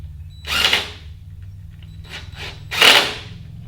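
A power drill tightening a bolt on a sewing table workstation during assembly, two short whirring bursts with a faint brief one between, close and fairly loud.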